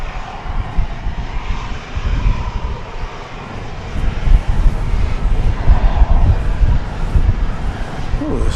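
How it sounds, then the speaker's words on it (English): An American Airlines Airbus A321 approaching DFW Airport, a loud continuous engine roar with broad rumbling noise that swells slightly midway, heard outdoors with some wind buffeting. "We do have American Flight 2193, which is winging its way from Tucson, Arizona, an Airbus A321."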